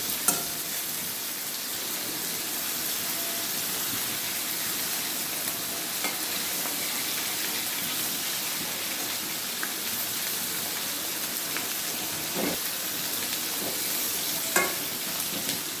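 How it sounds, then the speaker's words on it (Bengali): Koi fish frying in a pan for a tomato-based fish curry, a steady crackling sizzle running without a break and with no talk, occasional louder spits and pops rising from the hot oil. "মাছ এক সাইড ভাজা হয়ে গেছে, আমি আবার সাইডে দিয়ে দেব।"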